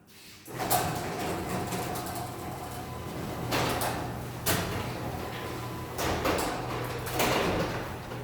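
A garage door opener closes the door, rumbling steadily with a low mechanical hum, punctuated by several louder rattling surges as it moves, heard fairly close.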